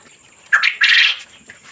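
Koel birds call at night, one close, loud bird giving two harsh squawking bursts back to back, then quieter calls trailing off, with no talk.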